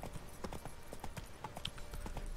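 Hooves clip-clop in a quick, even rhythm as a horse is called out of a stable in the video game The Witcher 3: Wild Hunt, fairly close and clear over a light ambient bed.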